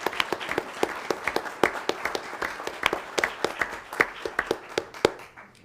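Applause at a school board meeting for Braden River High School, a modest group clapping in a loose, uneven rhythm with distinct individual claps, tapering off toward the end.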